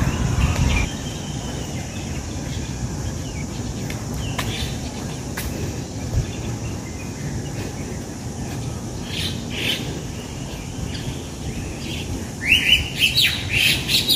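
Loud, sharp bird calls ring out repeatedly against an outdoor background, with a burst of squawking chirps near the end.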